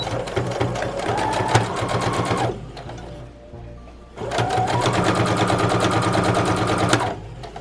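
A sewing machine stitches a reusable fabric face mask with elastic, running in two steady bursts of fast, even needle chatter separated by a short pause with the needle down at a corner.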